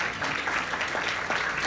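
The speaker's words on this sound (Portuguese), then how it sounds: "Podemos dar uma salva de palmas" Congregation clapping at a Christian testimony gathering, a soft, steady patter of many hands heard from a distance, fairly faint, with no talking over it.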